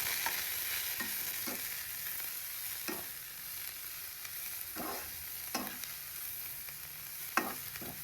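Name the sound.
stirring noodles with carrot and capsicum in a pan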